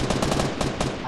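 A quick rattling burst of gunfire in the video game Fortnite, several close rapid shots crammed into about a second.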